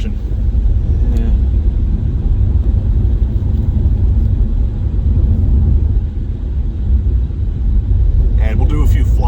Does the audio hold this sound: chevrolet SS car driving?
yes